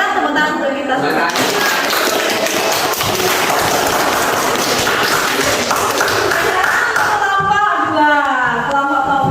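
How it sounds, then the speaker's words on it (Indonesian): A group of students in a classroom claps together in a dense, loud burst that swells and then fades, with voices and chatter mixed in before and after. "tepuk tangan untuk kita semua."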